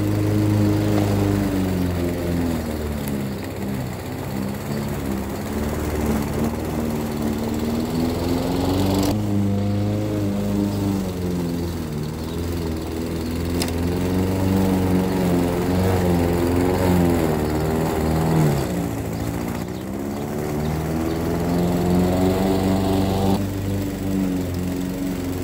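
A 1990s Honda HRS 21 lawn mower with a 110 cc engine, a blade over half a metre long and a cooling fan runs steadily up close, giving a continuous loud drone that wavers slightly in pitch, with no talking.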